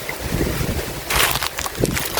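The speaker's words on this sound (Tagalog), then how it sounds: "malakas talaga yung hangin" Strong wind buffets the microphone in heavy, gusty bursts, with a louder roaring surge midway, like open water on a blustery day in Balabac, Philippines.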